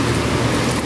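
Heavy rain pouring onto a house roof, a loud unbroken wash of pattering drops filling the space evenly from start to finish, no one speaking.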